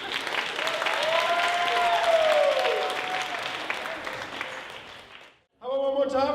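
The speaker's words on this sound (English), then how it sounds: "Clap more, come on." Audience at an open mic gives a dense, sustained burst of applause and cheering for a band act, swelling and then fading before a short cut, after which voices resume briefly.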